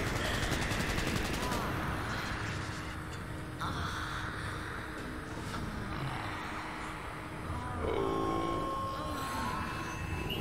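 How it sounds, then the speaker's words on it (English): Gunshots and machine-gun bursts in the video game Cyberpunk 2077, fairly quiet and clustered early, with a mechanical creak and rumble continuing underneath. "Shots."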